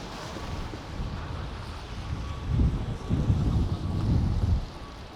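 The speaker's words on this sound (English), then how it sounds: "the wind is blowing pretty good right now" Wind blowing along a snowy downtown Toronto street at night, a steady rough rush of gusts buffeting the microphone, swelling louder toward the end.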